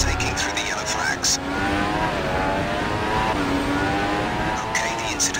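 An F1 race car in the F1 2016 mobile game, its engine droning steadily and rising in pitch through gear changes as it accelerates back to speed, with a voice speaking over the engine at moments.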